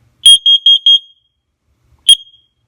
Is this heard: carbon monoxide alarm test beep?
yes